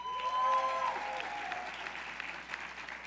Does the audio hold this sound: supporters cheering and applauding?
yes